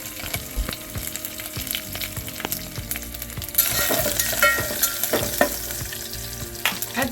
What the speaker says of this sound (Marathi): त्यामध्ये अर्धा चमचा जिरं अर्धा चमचा मोहरी सात ते आठ पानं कढीपत्त्याची आणि इथे सात ते आठ लसूण लसूण फेकून घेतलेले आहेत